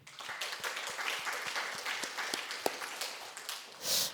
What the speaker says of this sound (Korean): 우리 박수 한번 치죠, 박수.